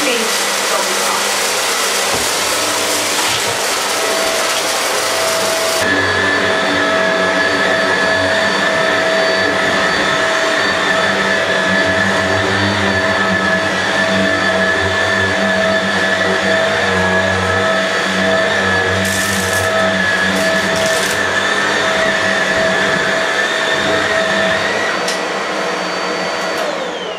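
A vacuum cleaner runs steadily and loudly through a child's cluttered bedroom during a cleanup, its motor holding a constant whine with a shift in pitch a few seconds in and brief bursts of suction noise near the end.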